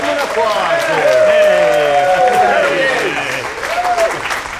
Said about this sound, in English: So give him an applause.